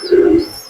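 Pigeon in a loft giving a single short, soft coo, close and fairly loud, alone without speech.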